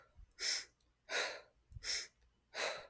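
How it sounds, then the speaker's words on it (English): Bellows breathing, full fast breaths in through the nose or mouth and out through the mouth, four strong rushing breaths in a steady rhythm, close and clear with no talk. "this is a full inhale through the nose or mouth and a full exhale through the mouth."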